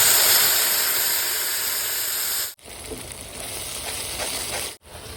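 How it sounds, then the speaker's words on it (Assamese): A paste of onion, ginger, garlic and cashew with cloves, cardamom, cinnamon and whole cumin hits hot oil, making a loud, steady broadband sizzle broken by two short silent cuts; no talking. "এতিয়া তেলখিনি গৰম হৈ যোৱাই তাতে দিম লং ইলাচি ডালচেনি আৰু লগতে গোটা জিৰা কৰি লোৱা পেষ্টখিনি দি দিম"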